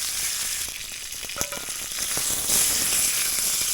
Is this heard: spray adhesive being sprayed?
no